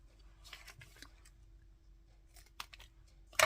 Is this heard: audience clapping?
no